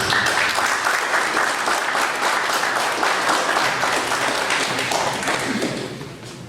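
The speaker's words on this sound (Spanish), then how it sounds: "para quien pido recibir con un fuerte y muy merecido aplauso" An audience at an evening lecture at a bar association gives loud, sustained applause to welcome a speaker, thick continuous clapping that tapers off near the end.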